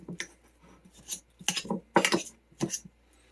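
A utensil mixes crushed garlic into bacon fat in a pan for chicken Alfredo, giving several short scraping, clinking strokes in an uneven rhythm, close and moderately quiet, with no speech.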